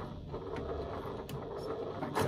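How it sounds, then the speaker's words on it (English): A sewing machine running a short reverse backstitch at a fabric corner, giving a steady close mechanical whir with rapid needle ticking and a few sharper clicks, alone and fairly quiet. "Back stitch just to secure my stitching."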